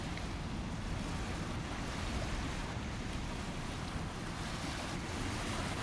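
Waves wash along the northern shore of Lake Urmia as a continuous, soft broadband surge with a breezy texture, low in level and steady throughout, with no speech.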